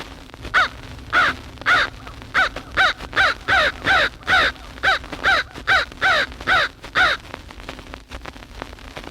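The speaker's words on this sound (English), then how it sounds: "Here's one crow quarreling with an owl." A single crow caws repeatedly in a loud, evenly spaced series of harsh calls, quarreling with an owl, about fifteen bursts close to the recorder with faint background hiss.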